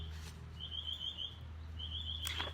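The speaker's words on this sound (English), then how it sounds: "Why is that bird so loud?" Outdoors, a bird gives two thin, high chirps, one after the other, over a low steady background hum.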